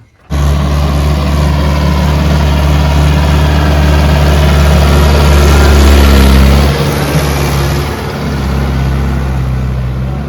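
A Mahindra tractor engine runs close by with a loud, steady, throbbing idle. The low rumble eases slightly after a few seconds, and no voices are heard.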